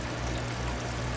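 Water from an aquarium air line dribbling gently at a low, adjusted flow into a fish tank holding Farlowella eggs, a soft continuous trickle and pour heard alone.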